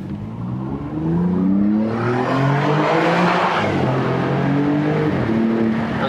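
A 2022 Alfa Romeo Giulia Quadrifoglio, exhaust valves open in dynamic mode with manual shifting, accelerates hard. Its loud, close engine note climbs, dips at a gear change, then rises again.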